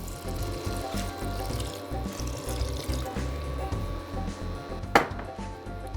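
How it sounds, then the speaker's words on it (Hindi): Water is poured into a cooking gravy masala made with yogurt and tomatoes, a steady liquid splash and sizzle over kitchen background noise, with one sharp clink near the end. "अब डालते हैं थोड़ा पानी।"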